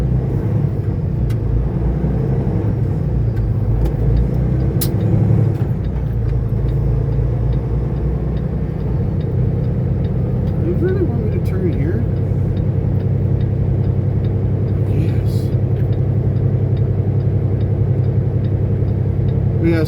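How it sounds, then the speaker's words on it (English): Continuous loud rumble of a car driving in road traffic, with engine drone and road noise filling the whole stretch and a few faint clicks on top. "I can't tell if these cars are turning"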